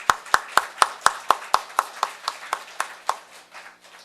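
Rhythmic, unison hand claps from a church congregation at a Christmas thanksgiving service, about fifteen steady, evenly spaced claps close to the microphone that slow slightly and fade toward the end.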